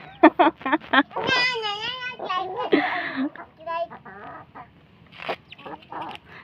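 Chicken clucks and squawks come in short bursts, close by, as a chicken is fed and picked up, mixed with a voice and an adult talking.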